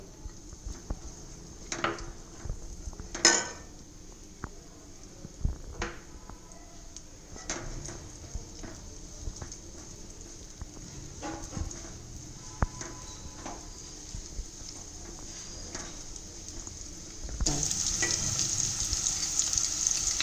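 Quiet, steady sizzling of onions frying in a pan, with occasional clinks and stirring clicks, the sizzle growing louder toward the end.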